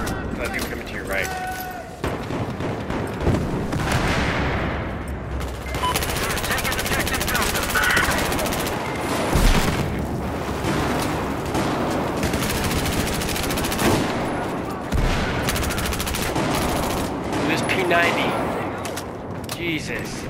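Rapid automatic fire from a P90 PDW submachine gun in a video game, sustained bursts crackling loudly and continuously over chaotic battle noise, with players talking over it.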